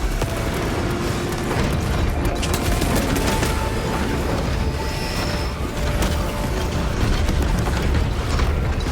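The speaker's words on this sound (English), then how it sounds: "Throwing fragmentation grenades." Fragmentation grenades going off in the Warhammer 40,000: Space Marine 2 video game, heard as a dense, continuous barrage of booms and crackling blasts under sustained gunfire, loud and close throughout.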